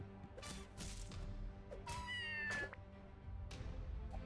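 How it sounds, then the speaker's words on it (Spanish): A crowd of cats in the video game Scribblenauts Unmasked meows in repeated, overlapping calls, several rising cries loud above a steady game soundscape. "Demasiados gatos."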